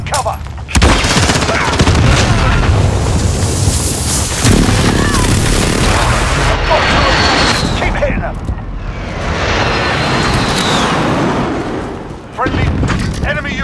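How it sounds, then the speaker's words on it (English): An enemy precision airstrike pounds the map in Call of Duty Modern Warfare multiplayer, with loud sustained explosions and rolling booms mixed with heavy gunfire. The blasts swell and fade in waves over several seconds, and brief game voice callouts sit under the barrage. "Enemy precision airstrike, take cover!"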